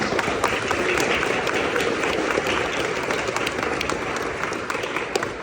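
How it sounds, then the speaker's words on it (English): Audience applause at a school admissions event, a dense steady wash of many hands clapping close and loud throughout, with scattered sharper claps standing out. "A round of applause for him."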